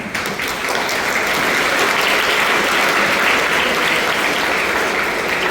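An audience of students clapping at an interactive session, dense and loud applause that swells and holds steady with no talk over it.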